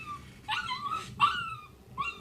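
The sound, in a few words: dog whimpering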